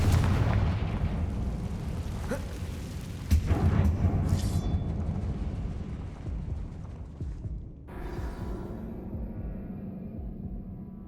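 Blasting spell explosions inside a shadowy abandoned mine in the Hogwarts Legacy game: a couple of sharp booms near the start and another around three seconds, each trailing into a long rumbling decay over a low background drone.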